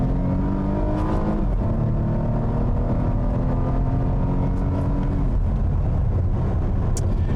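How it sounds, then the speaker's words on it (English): A 2020 Volvo S90 T6 Inscription AWD driven with manual shifting, its engine droning steadily throughout with rising and falling pitch as gears are held and changed, alongside road and wind noise. "I have moved the shifter over to the left, which means I'm going to be driving manually"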